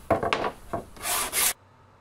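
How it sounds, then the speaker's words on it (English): Pallet wood pieces being sanded by hand to round corners and edges: a few short scraping rubs, then two longer, louder abrasive strokes, close up and with no talking. "a little hand sand to round off the corners and the edges"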